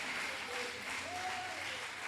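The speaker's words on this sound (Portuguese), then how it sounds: "então dê uma salva de palmas a Ele aí, em nome de Jesus" Brief applause from a church congregation during a family worship service, a soft, even wash of clapping with a faint voice or tone briefly audible.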